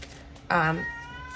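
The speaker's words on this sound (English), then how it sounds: "Excuse my cat, by the way. He is chiming in right now." A pet cat indoors lets out a single clear, drawn-out meow in a quiet room, with a faint voice nearby.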